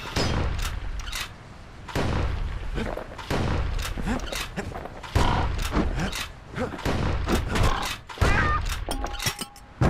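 Gunshots in the video game Bastion, a loud irregular series of sharp blasts and thuds, with a narrator's voice speaking between and over the shots.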